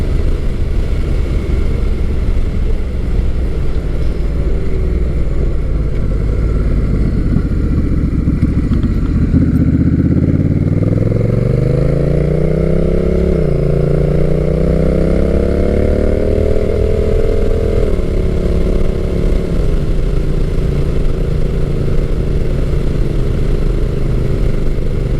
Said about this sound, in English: And we'll make a turn up here and we'll see how this automatic transmission functions.